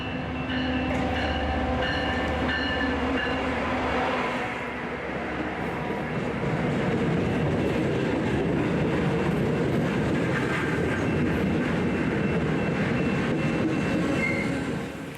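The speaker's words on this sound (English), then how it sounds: "there's a train coming right now" A train rumbles past nearby, a loud continuous roar of wheels on rails with some squealing, building and holding steady.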